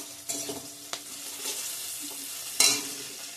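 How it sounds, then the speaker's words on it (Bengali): Onion, garlic, dried chilli and bay leaf frying in hot tempering oil for ghugni, a steady close sizzle broken by a few sharp spoon-stirring scrapes and one louder splattering burst near the end. "এখানে পেঁয়াজ, রসুন, শুকনো লঙ্কা, তেজপাতা দিয়ে দিচ্ছি ফোড়নে।"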